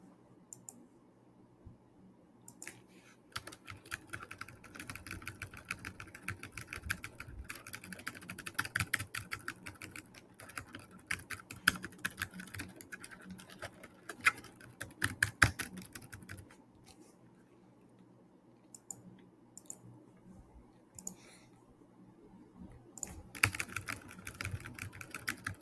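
Rapid mouse clicking during an online business simulator game: dense bursts of close, crisp clicks that come and go over about twenty-five seconds, with short quiet gaps between flurries.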